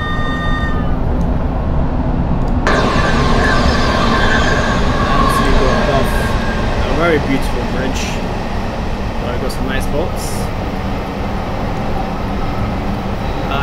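A Metropolitan Line S8 stock train in Train Simulator 2020, running with a sound mod, gives a loud continuous low rumble and hum of the running train, with a brief high whine early on, under someone talking throughout.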